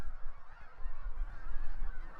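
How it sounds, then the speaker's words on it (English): A large flock of thousands of migrating geese honk continuously at a distance during the fall migration, a dense, overlapping chorus of calls with no talking. "where would these thousands of geese take their rest?"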